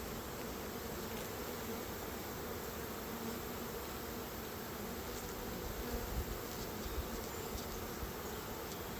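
Dense, steady buzzing of a honey bee swarm, a continuous drone filling the air up close, with no voices.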